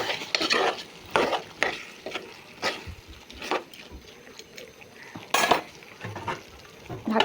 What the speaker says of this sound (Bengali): তো আমি এখন নেড়ে ছেড়ে নেব।